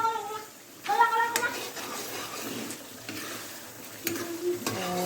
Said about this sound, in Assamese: ঢাকনখন আঁতৰাই পেলাই আৰু এবাৰ লৰাই দিম।